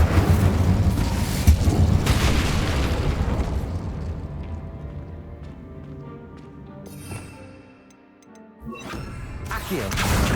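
Incendio fire spell cast in Hogwarts Legacy, a loud booming burst of flame that rumbles and fades away, followed by a quieter lull and another rising whoosh near the end.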